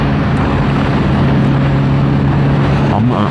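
Kawasaki Ninja 1000 accelerates in fourth gear at about three-quarter throttle, a loud, steady engine drone with wind rush, its pitch shifting briefly near the end.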